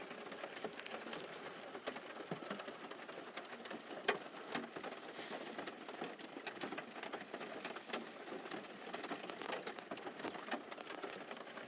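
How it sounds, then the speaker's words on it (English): Rain drums steadily on the roof of a van near Devil's Tower, Wyoming, a dense continuous patter of close drops with no voices over it. "there's just something about the sound of the rain hitting the roof of the van."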